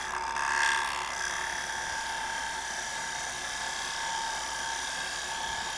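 A wood lathe spins a workpiece while a gouge takes a very light cut on a flat bead, giving a steady, thin high-pitched whine with a faint hum beneath, constant and close throughout.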